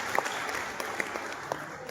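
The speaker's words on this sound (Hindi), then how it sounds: "तो इसके लिए शायद हम सभी ताली बजाएंगे उनके लिए।" Audience clapping at a Rotary Club gathering in Rewari, a moderate, somewhat sparse patter of hands with a few sharper claps standing out, with murmured voices underneath.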